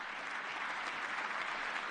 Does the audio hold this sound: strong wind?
no